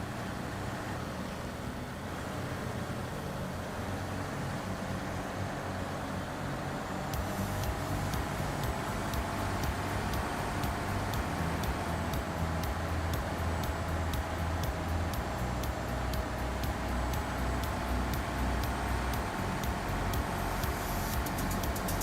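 Truck engine in the video game Snowrunner, running in high gear with a steady, loud whining drone that rises and holds, dense mechanical rumble throughout with no talk.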